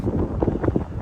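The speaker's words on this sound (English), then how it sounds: "definitely windy. You guys can probably hear that." Strong Hurricane Milton wind roars and buffets the microphone in a dense, gusty rumble, loud and continuous with no voices.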